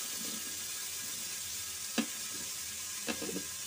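Onions sizzling in a hot pan for home-cooked pinakbet, a steady low frying hiss with two brief sharp clinks of a utensil against the pan.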